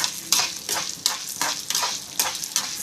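Urad dal and toor dal roasting in a dry pan, stirred in quick regular strokes about twice a second, each one a rustling, scraping sweep of grains against the metal.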